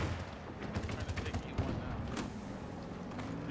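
Rapid gunfire from a Battlefield 2042 match, a dense stream of shots and bursts running throughout under background game noise, with faint talk mixed in.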